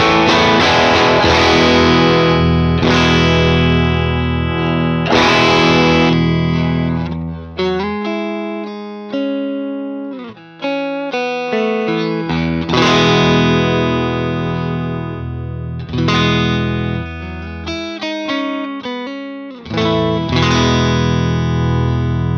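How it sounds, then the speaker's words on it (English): Electric guitar through a UA Enigmatic Dumble-style overdrive pedal, loud and alone: thick sustained chords alternate with sparser picked phrases and brief gaps, with a smooth, harmonically rich drive. "it's a very harmonically rich, responsive type of a drive"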